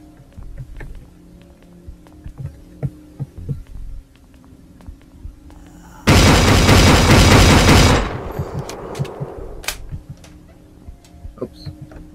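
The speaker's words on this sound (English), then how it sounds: "this is like one of my favorite shotguns that I'll just waste ammo on because it's so fun to use" A shotgun fires in The Last Stand: Union City, one loud blast sustained for about two seconds that then fades, standing out from quieter game ambience and small clicks.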